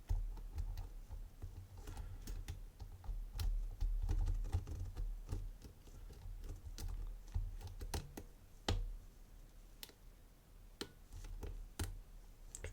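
Picking a Tigris Omega oval cylinder lock produces many small, sharp metallic clicks and ticks. They come close and irregular over a low rumble of handling noise.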